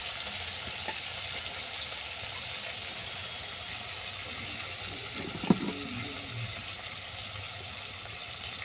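Ginger-garlic paste sizzling in hot oil for a sesame prawn dish, a steady broadband frying hiss that stays even throughout, with one brief clink of a utensil partway through.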